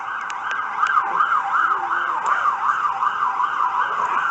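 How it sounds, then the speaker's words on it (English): An emergency vehicle siren wails in a steady rising-and-falling cycle, moderately loud and somewhat distant, going on for several seconds over faint background noise while a few soft clicks sound nearby. "let's wait for that friggin' siren to finish."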